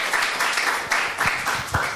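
An audience at a church seminar applauds in a short, dense burst of many hands clapping, close and fairly loud.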